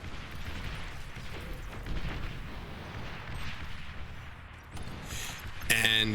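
Units snipe and fire at lashers and rocket bots in a qualifier-round video game match, giving a steady wash of rumbling booms and crackling shots, with a sharper, louder burst near the end.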